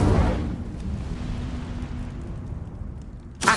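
A burst of roaring flame from the Incendio fire spell in the video game Hogwarts Legacy, a loud whoosh that decays into a rumbling crackle, ending with another sharp burst.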